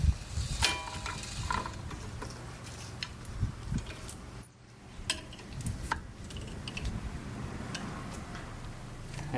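A clamp tool compressing a brake caliper piston during a brake change gives quiet mechanical clicks, creaks and ratcheting taps close by, irregular and spaced out, with one brief louder knock midway.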